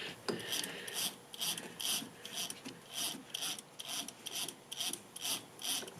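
A small tap cutting threads into a hole in aluminum, giving a steady series of soft rasping scrapes that repeat about twice a second, close up and fairly quiet with no voices.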